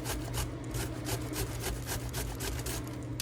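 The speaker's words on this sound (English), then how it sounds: "using your grater on the larger holes, you're gonna go ahead and just grate the whole zucchini" A whole zucchini is rubbed over the large holes of a box grater in quick, rhythmic back-and-forth strokes, each a close, rasping scrape, repeating steadily for a few seconds.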